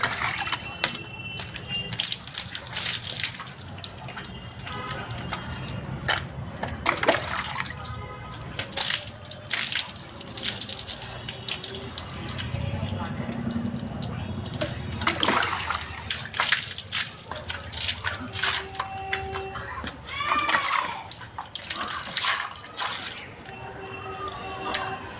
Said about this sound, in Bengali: তো তাই জন্য ঝটপট স্নানটা সেরে নিলাম।